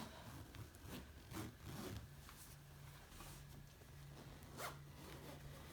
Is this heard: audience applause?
no